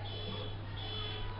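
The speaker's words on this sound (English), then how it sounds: "Somebody's alarm going off in the background." A buzzing alarm drones steadily in the background of a rugby sevens tournament, with a continuous electronic tone under crowd and arena noise.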